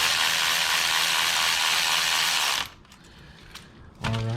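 A torque wrench tightens the clutch cover bolts on a Triumph Tiger/Sprint ST motorcycle, giving a rapid, continuous ratcheting buzz that stops abruptly, then a few faint clicks and a short final burst of ratcheting.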